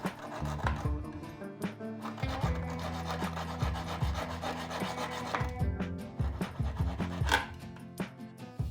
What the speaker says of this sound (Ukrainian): Зайві елементи цегли зрізаю пилочкою.